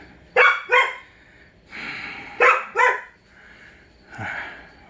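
Dogs bark in short paired yaps, two quick double barks a couple of seconds apart with softer whining in between, fairly close and with no talk.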